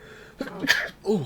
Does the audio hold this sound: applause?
no